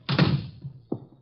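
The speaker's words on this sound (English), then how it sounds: "Shut the door." A door pushed shut in an old-time radio drama, giving a solid wooden thunk followed by a softer knock as it settles, close and brief, with no talk.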